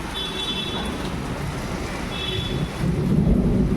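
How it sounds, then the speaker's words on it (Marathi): Heavy rain pours in a steady roar, with low rumbling swelling near the end; faint tonal chirps sit above the downpour. "इथे किती जोरात असा पाऊस पडत आहे इकडे"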